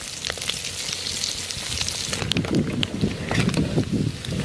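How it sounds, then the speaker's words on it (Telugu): Food deep frying in a pan, dense continuous crackling sizzle with bursts of popping bubbles, close and steady throughout, with no talk over it. "ఓకే, అయినాయి మొత్తం మంచిగా డీప్ ఫ్రై అయినాయి."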